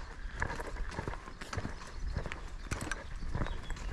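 Horse hooves clip-clop in a steady walking rhythm over ambient outdoor noise, with horses and donkeys nearby on the Camino de Santiago route.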